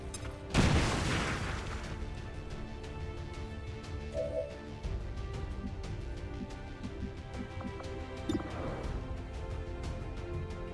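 A grenade blast in the XCOM 2 video game, one loud booming burst near the start that trails off into rumbling game ambience with a few smaller thuds afterward.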